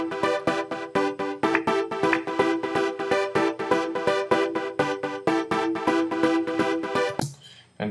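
A house music breakdown section built from steady, rapid rhythmic synth stabs and chords pulsing evenly throughout, loud and dense, ending in a brief drop near the close.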